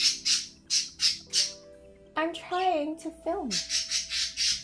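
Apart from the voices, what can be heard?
birds squawking outside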